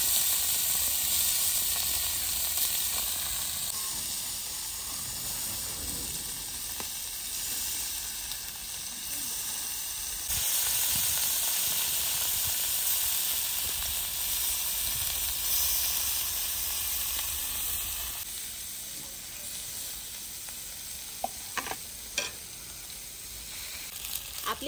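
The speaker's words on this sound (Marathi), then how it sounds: "आपली पनीर टिक्की छानपैकी शॅलो फ्राय झाली" Paneer tikki shallow frying in oil on a tawa: a continuous close sizzle and hiss that holds for a long stretch, with a few sharp pops toward the end.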